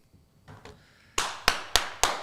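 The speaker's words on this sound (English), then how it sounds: "Rise for the applause of one young Justin Fields." Four sharp, evenly spaced claps ring out close by after a couple of faint taps, a small burst of hand clapping in a basketball postgame show rather than a crowd.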